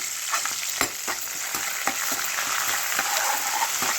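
Four or five green chillies and curry leaves fry in hot oil in a pan for an aloo baingan curry, a loud continuous crackling sizzle with regular spatula scrapes and taps, no voices.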